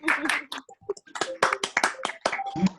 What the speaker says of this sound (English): So everybody give Zoe a little clap.